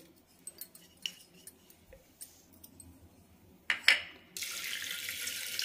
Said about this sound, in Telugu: ఈ బియ్యము బీట్రూట్ ఉడికేకి తగినంత నీళ్లు పోసుకోండి